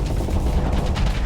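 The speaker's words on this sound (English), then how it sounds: "The point defense shoots at him, and never seems to be able to do quite enough." Point defense guns in the space game Starsector fire at incoming rift torpedoes, a dense, unbroken rattle of rapid shots that stays loud and close for the whole short stretch.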